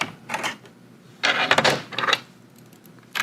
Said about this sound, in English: I need to put in my zipper foot